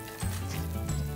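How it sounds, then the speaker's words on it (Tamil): Plain roadside-style salna gravy for parotta boils in a pot, a soft bubbling simmer with low burbling pops, close and quiet with no talk. "கொதிச்சிக்கிட்டு இருக்குங்க. ஆல்மோஸ்ட் நல்லா கொதி வந்துடுச்சு."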